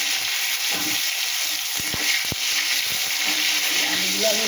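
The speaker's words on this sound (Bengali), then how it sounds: "আলুগুলো আমি ভাজতে থাকবো ভালো করে।" Potatoes frying in hot oil with green chilli give a loud, continuous close sizzle, broken by a few sharp clacks of a utensil against the pan.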